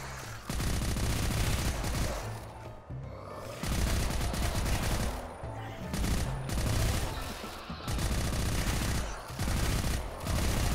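Gunfire from a weapon in the demon-shooting video game Hellbreach Vegas, loud rapid bursts of shots repeating in several volleys with short pauses between them.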